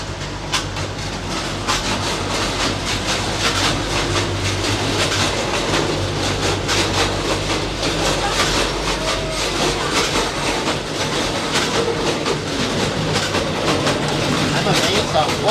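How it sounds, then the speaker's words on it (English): A miniature park railroad train rolls past at a railroad park in Scottsdale, Arizona, with a steady loud rumble and rattling clickety-clack of small cars lasting throughout, close by, with crowd murmur underneath. "Here comes the train now."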